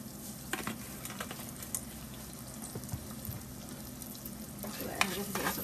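Meat sautéing in a pan for chili con carne, a soft, continuous sizzle with scattered crackles and pops, quiet and steady with a brief sharper spatter near the end, no talking.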